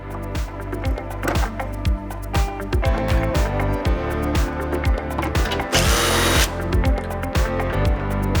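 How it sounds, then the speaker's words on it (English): A power drill bores holes into a door for a TownSteel school security lock, a loud whirring motor that revs and stops in short repeated bursts, with a brief harsh grinding stretch midway. "now I'm going to drill the holes"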